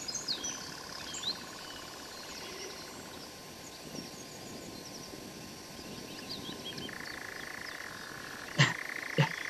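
A nightjar churrs in a long, steady mechanical trill that holds throughout, moderately near, with other birds chirping faintly around it and a couple of sharp clicks near the end.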